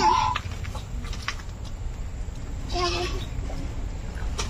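Chickens cluck at an agro farm with melon crops in Malaysia, a brief sharp call near the start over a constant crowd and farmyard hubbub.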